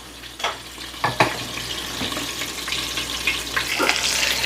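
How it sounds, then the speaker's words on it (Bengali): Pointed gourd (potol) frying in a covered pan, a steady soft sizzle and crackle with a few light knocks and scrapes of a lid or spoon, close and even throughout. "একটু ঢেকে ঢেকে ভাজি।"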